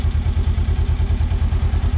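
A Polaris RZR 900 S four-by-four side-by-side with power steering and about 220 hours runs at a steady idle, a close, even, rhythmic engine throb with no talking.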